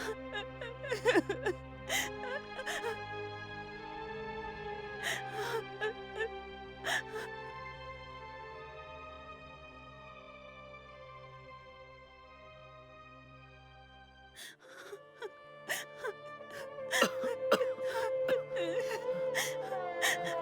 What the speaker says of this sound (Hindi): तुम रो रही हो? प्लीज रो मत। तुम्हारे रोने की आवाज मुझे कमजोर बनाती है।